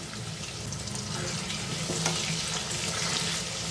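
Steady, dense sizzling of potatoes frying in hot oil over medium heat, covered, a constant crackle close by with no talking.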